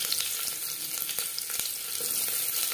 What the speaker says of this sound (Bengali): 3 চামচ সরষের তেল গরম করে নিয়েছি। দিয়ে দেবো একটা তেজপাতা। তেজপাতা ভেজে নেওয়ার পর দিয়ে দেবো পেঁয়াজ।